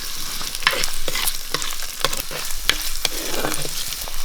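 Onion, ginger and green chilli frying in coconut oil for a Kerala-style soya chunk curry, a steady close sizzle with frequent stirring scrapes and clinks throughout, no talking.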